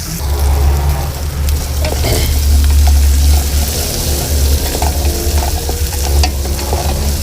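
Aromatics for a moringa flower dish fry loudly in a pan while being stirred, a thick continuous sizzle with scraping and occasional clinks over a low steady hum, close up and without speech.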